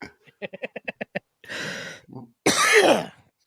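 Several loud, close coughs in a quick burst, with short sharp hacks at first, then two longer rough coughing fits, recorded on a podcast microphone.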